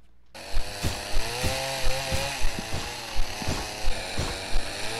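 A chainsaw engine in an office horror video game roars continuously and loudly, revving in a regular pulsing rhythm roughly every half second.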